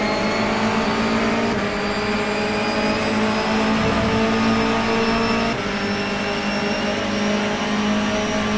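Race cars in a race, their engines holding a steady, loud droning whine that continues without a break, with slight shifts in pitch as the cars pass.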